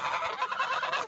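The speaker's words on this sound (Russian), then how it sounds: "Вот дядьки-гуси." A flock of farmyard geese honks continuously and loudly close by, a dense overlapping chorus of calls with no voices.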